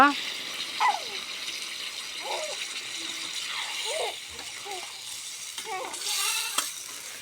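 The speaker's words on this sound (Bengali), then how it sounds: "হয়ে গেছে কষানোর জন্য এখন আমরা পানি দিয়ে দিব" Water is poured into a bottle gourd curry sautéing in a pan, bringing a splashing hiss and gurgle over the frying sizzle while a voice talks.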